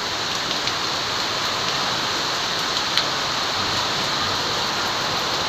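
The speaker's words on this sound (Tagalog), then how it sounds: "Lakas ng ulan, lakas ng hangin." Heavy typhoon rain pours down steadily with strong wind, a loud, unbroken hiss of water with occasional sharper drops standing out, and no voices over it.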